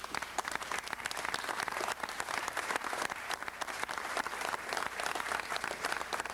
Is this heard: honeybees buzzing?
no